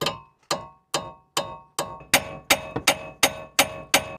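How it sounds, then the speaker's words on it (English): Sharp metallic hammer strikes ring out about twice per second in a steady rhythm, ten blows in all, close and clear, as a car wheel stud is hammered into its hub flange. "I'm going to start hammering"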